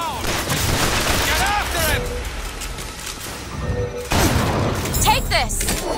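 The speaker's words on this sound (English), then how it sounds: "Okay then, keep firing bazookas." Enemy bazooka blasts and gunfire in the shooter game Bioshock Infinite, loud bursts at the start and again near the end with a quieter gap between, and game voices heard in the mix.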